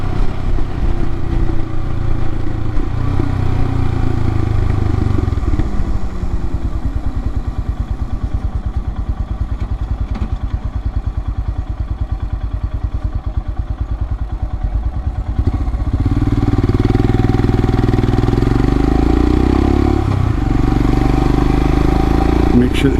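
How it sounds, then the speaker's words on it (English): A 2022 Royal Enfield Himalayan fitted with a Hitchcocks carburetor conversion pulls hard on a commute. Its loud, close engine drone rises and falls in pitch through repeated accelerations and gear changes, with a sustained roar throughout. "You know, no more big bog, mostly just engine noises and accelerate like it should."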